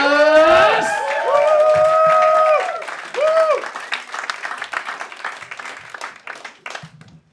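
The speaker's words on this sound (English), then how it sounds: "Put your hands together for our third comedian, Tom Douglas." Crowd applause and cheering swell at the start under a loud harmonic voice, then settle into scattered clapping and noise as the room quiets, at a stand-up comedy show in Sheffield introducing a comedian.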